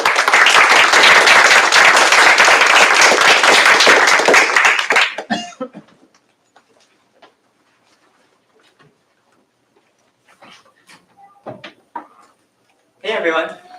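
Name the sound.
audience applause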